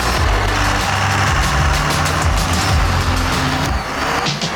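Westen Champlin's modified Smokestang Mustang pulls away with a loud, steady engine roar and broad rumble that holds throughout, dipping slightly near the end as the car drives off.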